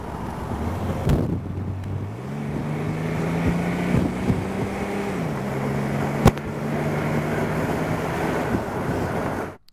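A 1936 Ford rumble seat roadster drives along a road, its engine droning steadily with low tones that rise as it shifts, under heavy wind rush and road noise, with one sharp knock partway through.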